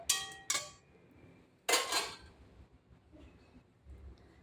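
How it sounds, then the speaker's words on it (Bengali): Metal lid set onto a cooking pot of cabbage with prawns, giving sharp clanks near the start and a louder rattling clatter a moment later, then quiet kitchen background. "আমি আবার ঢেকে দেব।"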